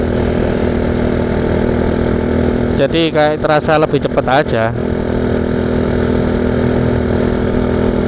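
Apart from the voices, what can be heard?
motorcycle engine running while riding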